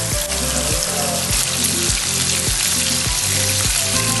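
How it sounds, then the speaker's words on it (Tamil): Masala-marinated chicken frying in hot oil on a tawa, a loud, dense crackle with a steady low hum pulsing rhythmically beneath it. "இந்த ஆயில் நல்லா ஹீட் ஆனதுக்கப்புறம் நம்ம மசாலா தடவை இந்த சிக்கனை ஃபுல்லாக போட்டு நல்லா ஃப்ரை"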